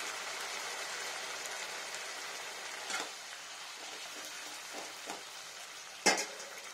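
Potatoes and pointed gourd stirred in a pan over a low flame: a steady close frying sizzle with a few soft scrapes of a spoon, and one sharper knock near the end.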